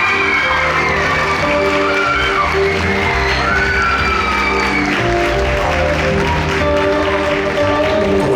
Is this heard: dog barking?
no